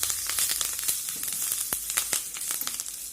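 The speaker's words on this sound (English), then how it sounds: "Put off the flame and add lots of curry leaves." Curry leaves and red chilies sizzle and crackle in hot oil with the flame off, a busy spattering hiss full of sharp pops, close and continuous.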